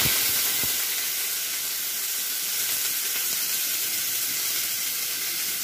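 Beans and carrots frying in hot oil for a fried rice dish, a loud steady sizzling hiss that fills the whole stretch without voices.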